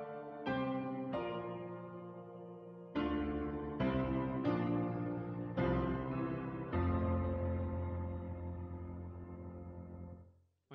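Roland digital piano with cabinet resonance switched off, playing a slow sequence of clear chords and single notes that ring and decay cleanly, close and alone with no talk.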